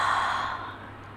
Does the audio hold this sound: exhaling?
yes